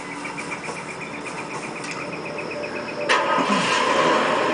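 A car engine starts up in the video game Far Cry 2, a sudden loud burst about three seconds in that rises out of steady insect chirping and a faint hum, then carries on as a constant idle.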